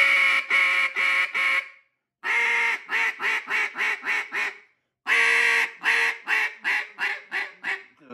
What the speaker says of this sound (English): you can get on that high ball to hit those far out ducks if you want to bring them in